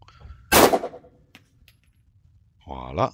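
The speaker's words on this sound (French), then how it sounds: "Donc là, c'est un bon tir." A single sharp live-ammunition gunshot at shooting practice with a Mantis X10 Elite training system, loud and close with a short decay, followed by quiet and then someone speaking.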